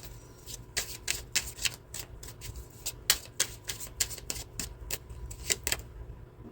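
Tarot cards are riffled and shuffled by hand in quick, crisp bursts of flapping and snapping, continuing rhythmically at close range with no talking.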